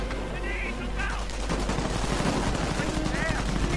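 Gunfire in the World War II strategy game Company of Heroes, dense bursts of machine-gun and rifle shots rattling continuously at moderate distance, with chirps and other battle effects mixed in.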